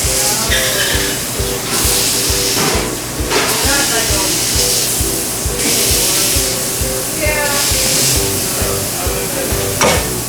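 A burger smashed hard onto a hot griddle with onions sizzles steadily, with a continuous frying hiss, scraping and spatula taps, and a voice speaking over the cooking.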